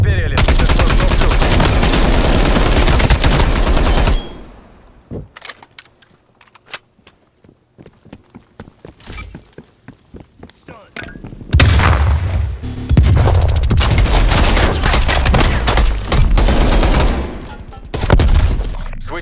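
Gunfire in Call of Duty: Black Ops Cold War multiplayer: sustained loud bursts of automatic fire and booms, a quieter stretch of scattered single shots and footsteps, then heavy continuous shooting resumes.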